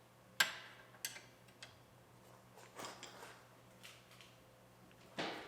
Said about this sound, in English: So our ratcheting wrench will get the job done.